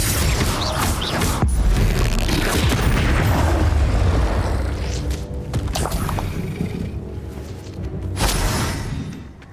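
Bombarda and Confringo spells from Hogwarts Legacy blast in loud booming explosions, layered over dense game combat noise and rumbling effects that swell and fade across the stretch.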